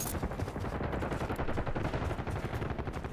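Sustained automatic gunfire in the video game Call of Duty Black Ops 6, a continuous loud barrage of rapid shots mixed with other firing, with no pauses throughout.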